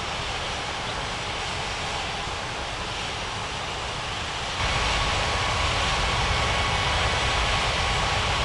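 A Cargolux cargo jet taxis at a video game airport, its engines a steady broadband roar that steps up louder partway through, continuous with no talk.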